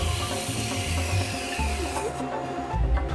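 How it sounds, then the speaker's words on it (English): A piece of wood is pressed against the moving belt of a belt sander in a wood shop, giving a steady, loud, rasping grind with low motor rumble that shifts as the pressure changes, with no talking. "Bring the piece to be sanded and shaped gently against the moving belt."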